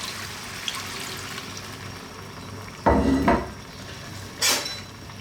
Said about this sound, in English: I'm also going to add some water in there now.